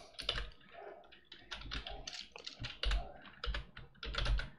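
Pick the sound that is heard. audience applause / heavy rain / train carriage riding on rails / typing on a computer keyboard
typing on a computer keyboard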